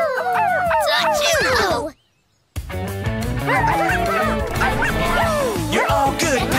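Cartoon puppies bark, yip and whimper in bright, excited bursts, overlapping over lively background music with a brief silent gap partway through.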